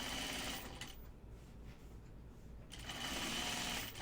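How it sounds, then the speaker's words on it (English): A sewing machine stitches dress pockets toward the seam allowance: a steady, close whirring hum that eases off in the middle, then runs at full speed again toward the end, with no talking. "I am going to stitch my pockets toward the seam allowance toward the pocket."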